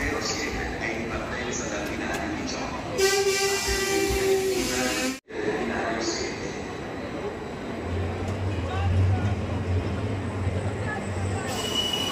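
An Italo high-speed train rumbles and rolls away from a station, its wheels letting out a high metallic squeal partway through, with voices murmuring over the steady noise.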